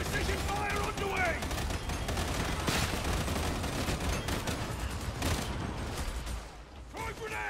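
Video game gunfire crackles in rapid bursts and volleys throughout, with mechanical clicks between shots and voices talking over the action.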